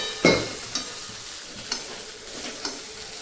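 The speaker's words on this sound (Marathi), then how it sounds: "याच्याने कसं म्हणजे चटणी जळत नाही आणि भेंडी पण व्यवस्थित फ्राय होऊन जाते।" Okra fries with spices in a pan, a soft continuous sizzle under several sharp clinks and scrapes of stirring, close and fairly quiet with no talk.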